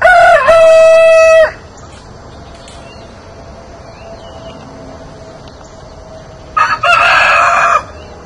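A young heritage barred rock rooster crows loudly and close by twice, once at the start and once near the end, with quieter clucking and background yard noise between the crows.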